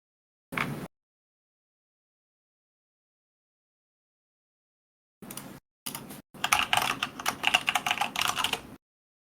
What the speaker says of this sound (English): Very loud keyboard going on.